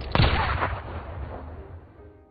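A single sharp gunshot cracks out near the start, followed by a long rumbling echo that slowly fades away.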